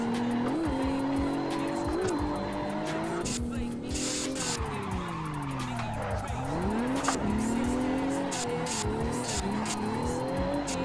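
Tires squeal continuously as a Toyota GT86 with a 2JZ engine swap drifts in Assetto Corsa, the engine note rising and falling under the long skids.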